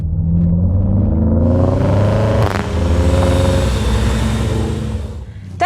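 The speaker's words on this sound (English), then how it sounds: "The smooth sound of the 40i six-cylinder petrol engine with 340 horsepower and M Sport exhaust system." A BMW X5 40i SUV's six-cylinder petrol engine with 340 horsepower and M Sport exhaust runs with a steady, loud, smooth drone and a rising rev, close by and heard alone.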